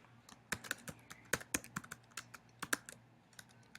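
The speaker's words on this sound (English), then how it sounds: "And just continue to type your heading." Fingers type on a computer keyboard in quick, uneven bursts of close, crisp key clicks, heard alone at a fairly low level.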